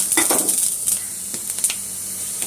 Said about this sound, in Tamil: எண்ணெய் காஞ்சிட்டு இந்த தாளிக்கிற பொருள் போடுறேன்.